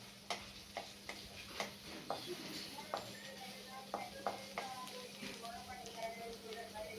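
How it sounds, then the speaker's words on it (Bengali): Pasta ingredients fry in a pan over moderate heat, a soft continuous sizzle broken by a steady run of sharp spatula clicks and scrapes as the food is stirred. "এরপর আমি এটা ভালোভাবে ভেজে নিচ্ছি।"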